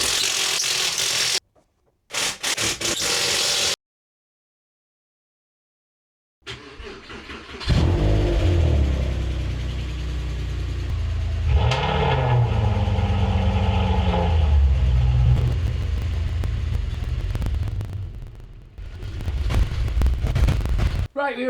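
A Porsche 996 engine fires up after brief bursts of noise and gaps of silence, then runs and revs loudly nearby with rising and falling surges as the car is maneuvered.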